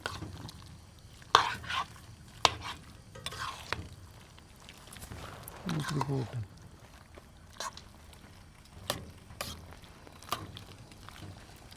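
Kottayam-style kappa biryani with beef is stirred in a pot, giving intermittent scraping and sloshing strokes over a soft background sizzle.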